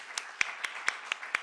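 A handful of sparse, separate hand claps for a presenter, about six sharp slaps spaced evenly and fairly quiet, with no voices over them.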